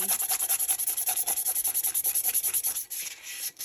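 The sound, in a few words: hand sanding a glitter epoxy tumbler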